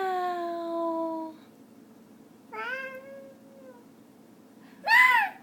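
A voice imitates a cat's meow in a few separate drawn-out cries, the last one higher and louder, with quiet pauses between them in an otherwise still room.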